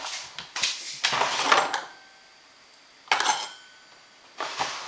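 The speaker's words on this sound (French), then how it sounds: "Et je vais mélanger le tout avec une cuillère" A spoon mixing Tunisian brick filling in a bowl gives sharp clinks and scraping bursts in a few quick clusters separated by quiet pauses, close and fairly loud.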